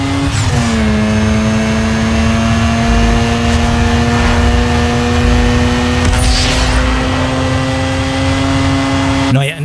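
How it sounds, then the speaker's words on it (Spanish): A car engine from the racing game Need for Speed Underground 2 holds a loud, steady droning note throughout, pitch dipping slightly at first and then holding smooth and constant with no voices over it. "qué espectacular suena este auto"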